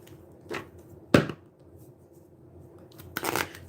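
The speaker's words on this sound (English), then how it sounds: "I normally don't shuffle the cards this way, but I was told to, so I did." Tarot cards are shuffled close by in a few separate riffling bursts, one sharp and loud, with quiet gaps between them.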